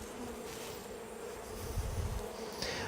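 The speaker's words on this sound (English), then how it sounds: "we see lots and lots of bees here. They're coming in, coming out" Honey bees buzz around weatherized hive boxes in a dense, continuous drone, close and fairly loud, with individual bees swelling nearer at moments and no talking.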